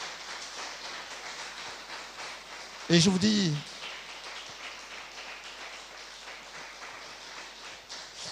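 Church congregation at a Christmas service applauding the organisers, a dense and fairly faint patter of many hands clapping that runs throughout, with someone briefly speaking over it.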